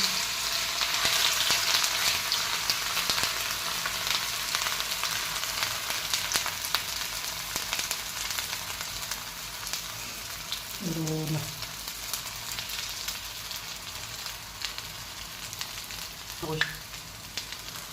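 Potato and semolina snacks fry in hot oil in a pan, giving a steady bubbling sizzle throughout, with a couple of brief clinks partway through.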